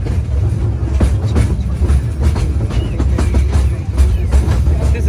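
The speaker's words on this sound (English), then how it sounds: "this is our train that we'll be taking deeper into the park" A park train at Iguaçu Falls rolls along with a steady loud low rumble and faint rhythmic wheel clatter throughout, with no break.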